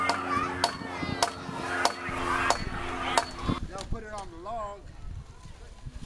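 Tacks are hammered in while palm fronds are fastened onto a chickee roof: five sharp, evenly spaced hammer strikes ring out over steady talking, and speech continues after the hammering stops.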